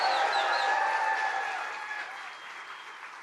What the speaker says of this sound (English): let's give a round of applause for Mike Rogers.